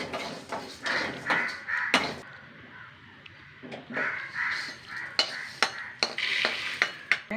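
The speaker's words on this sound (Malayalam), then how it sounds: "നമുക്കിനി അരിയും ഉഴുന്നും ഉലുവയും ഒപ്പം വറുക്കാട്ടോ. ഒരു തണ്ട് കറിവേപ്പില. ഒരു ചെറിയ തീയിൽ വറുത്തെടുക്കാം." Rice, urad dal, fenugreek seeds and curry leaves dry-roasting together in a pan over a low flame, with scattered scraping stirs close by and crows cawing repeatedly in the background.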